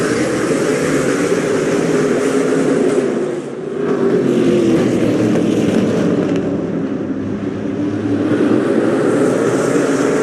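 SRX race cars accelerate at the race start at the Motor Mile, a loud, continuous engine roar that dips briefly and then swells again.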